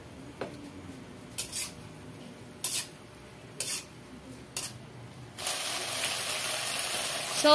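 Spring onion hits a hot frying pan, a few light utensil clinks and taps, then a loud, steady sizzle that surges up and holds.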